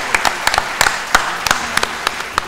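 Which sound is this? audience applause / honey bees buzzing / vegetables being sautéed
audience applause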